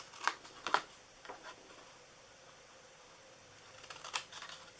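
Scissors snip through paper while a small gift box is cut out, a few crisp, close cuts spaced apart with quiet pauses between them.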